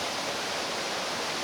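Waterfalls along a small side valley with bridges in a mountain park rush steadily, a dense, even hiss of falling water heard close and alone, with no break or change.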